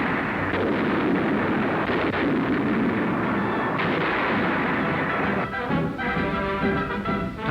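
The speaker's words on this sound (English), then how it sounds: "Heavy fighting continues on Leyte, with American big guns pounding the reinforced enemy." Heavy American artillery pounding enemy positions on Leyte in 1944, wartime newsreel footage: a dense, continuous roar of big-gun fire and rumbling blasts, loud and sustained throughout.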